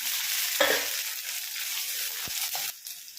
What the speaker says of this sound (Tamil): சீரகம், வெந்தயம் ஒரு ஸ்பூன் வச்சிருக்கேன், அது போட்டிருக்கேன். பொரியட்டும்.